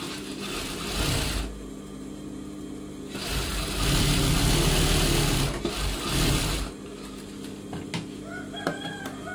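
Sewing machine stitching blouse lining to the main fabric, running in loud close bursts of rapid whirring with short pauses between, light clicks at the end.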